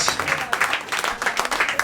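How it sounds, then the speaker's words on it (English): An audience claps at a music video premiere event, a dense ripple of close hand claps running steadily for a couple of seconds with voices mixed underneath. "It's really awesome to hear that clapping sound"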